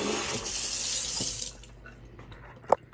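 Tap water runs steadily into a bowl of rice for rinsing, a broad rushing hiss for about a second and a half before it stops, followed by faint handling sounds and one sharp clink near the end.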